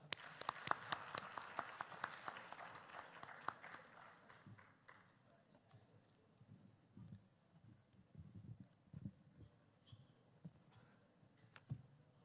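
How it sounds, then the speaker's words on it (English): A brief spattering of applause from a conference audience at a panel session, with a few seconds of clear clapping at the start that quickly thins out into faint room noise, shuffling and a few stray claps. "a round of applause to Mr."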